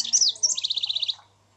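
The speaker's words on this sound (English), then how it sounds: "Those birds are singing a different type of tune." A bird sings a short bright phrase: a few quick high chirps, then a rapid even trill of about nine notes that cuts off abruptly, close and clear against near silence.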